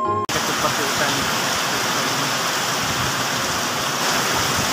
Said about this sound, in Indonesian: Seketika itu, turunlah hujan.